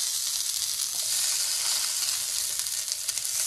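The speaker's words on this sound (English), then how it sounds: "We're going to just cook each side for about 2 minutes each until it gets like a nice crispy." Vegan bacon slices sizzle steadily in a frying pan, a dense, even crackle of frying close by that holds at a constant level throughout, with no talking.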